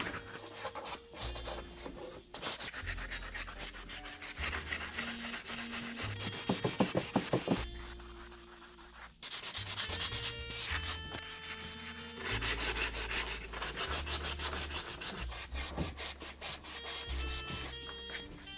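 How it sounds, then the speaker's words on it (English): Sandpaper rubs back and forth over chalk-painted wooden furniture in close, rhythmic strokes, steady scratchy passes broken by a few short pauses. "I will sand first, and then I will seal it all after I've wiped it off"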